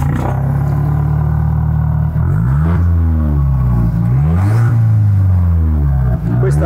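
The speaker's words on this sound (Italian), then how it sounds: "Adesso se Mirko accende vi facciamo sentire la differenza tra scarico aperto o scarico chiuso" An Alfa Romeo Giulietta Quadrifoglio with a remote-controlled valved exhaust revs up and down repeatedly, a loud, close engine rising and falling in pitch over a constant droning rumble.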